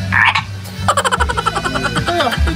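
A frog croaks in a rapid pulsing rattle, loud and close, beside a stream on an outdoor outing, with a brief voice at the start.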